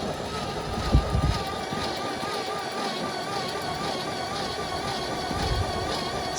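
The engine of a 1962 Chevrolet C60 truck cranks slowly on a rebuilt starter with its spark plugs out, a steady labored whir under a mechanical hum, fairly loud and continuous, with no talking.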